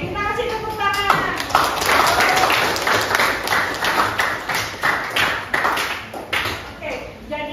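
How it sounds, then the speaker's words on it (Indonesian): Applause breaks out among a group at an Indonesian academic coaching session, a steady patter of many hands clapping at moderate distance for several seconds, with voices talking over it. "Oke, kita kasih tepuk tangan."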